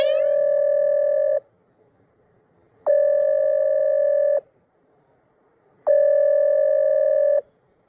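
A phone call rings out unanswered: three evenly spaced, steady electronic ring tones, each lasting about a second and a half, separated by silence, loud and clear with no talk over them.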